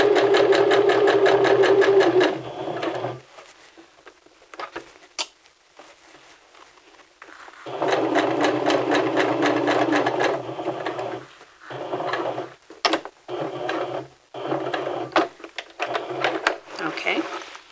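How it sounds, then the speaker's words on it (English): Sewing machine stitching a men's vest seam, running in steady loud bursts with brief stops between for backstitching, a voice speaking during the pauses. "we're going to sew to this point and back stitch"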